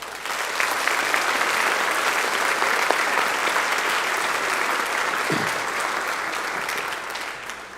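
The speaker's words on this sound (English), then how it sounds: "Give these people a round of applause." An audience at a school band concert applauds steadily for nearly eight seconds, a dense, even wash of clapping from many hands that holds its level throughout, with no voices standing out.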